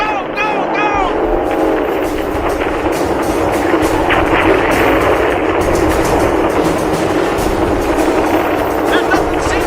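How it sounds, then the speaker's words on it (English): Dramatized battle scene with gunnery positions opening fire, a dense, continuous barrage of loud gunfire and rumbling blasts, with shouted voices briefly at the start. "All the gunnery positions have opened fire!"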